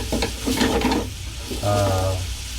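Chopped lechon pork, tipped into a hot pan for sisig, sizzles steadily with brief stirring scrapes, close and moderately loud, the hiss swelling midway and holding to the end.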